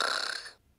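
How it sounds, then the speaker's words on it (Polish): A Fisher-Price toy puppy gives a single short, breathy electronic snore, near and clear, fading out abruptly into quiet. "Teraz słyszymy, jak słodko chrapie."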